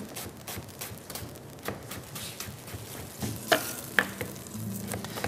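Onion sizzles in a pan, a soft, steady frying hiss at low volume, punctuated by a few sharp clinks and taps of utensils near the end.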